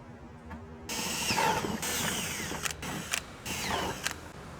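A power drill bores holes through a car bumper to mount a Flow Designs splitter diffuser on a Hyundai Sonata N Line, with a quiet start followed by nearby whirring bursts and short pauses.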